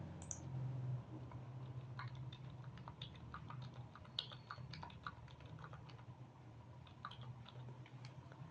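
Keys tapped on a computer keyboard while entering numbers into a table in MS Word 2003, a quiet, irregular run of light clicks against a low steady hum, with no voice.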